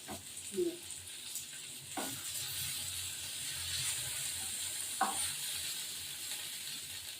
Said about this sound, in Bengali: এক পিক ভাজা হয়ে গেছে আরেক পিক ভাজা হবে